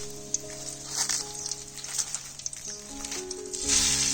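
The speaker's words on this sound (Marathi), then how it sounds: "बस तेल झालं टाकून तेजपत्ता" A bay leaf drops into hot oil for an outdoor riverside biryani, a moderate crackling sizzle that swells louder near the end, with no talking.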